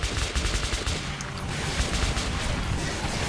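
Rapid automatic gunfire from Metro 2033 Redux, a dense stream of loud shots rattling steadily for several seconds with no pauses.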